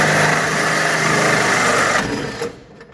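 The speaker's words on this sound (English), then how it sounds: "we ended up drilling that hole now" A loud, high-pitched motorized whine runs steadily as a power drill bores a hole in a 1955 Chevy Bel Air during an A/C installation, then winds down and stops near the end.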